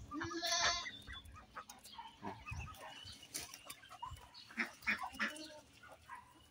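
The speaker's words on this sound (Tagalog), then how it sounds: "Yan yung ano po, kambing natin." Several goats bleat nearby in short calls, mixed with rustling and a faint clucking fowl in the background.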